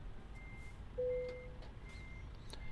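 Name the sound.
truck reversing beeps while backing up, Euro Truck Simulator 2 video game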